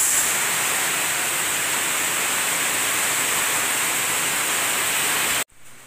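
Heavy rain with strong wind at night, a dense, steady, loud hissing roar filling the clip before cutting off abruptly near the end.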